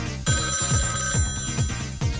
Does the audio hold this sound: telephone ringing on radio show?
yes